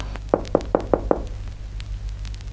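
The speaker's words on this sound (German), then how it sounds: "Ich werde einfach klopfen." Five evenly spaced knocks on the wooden door of a little house, crisp and close, over a low steady hum, then quiet.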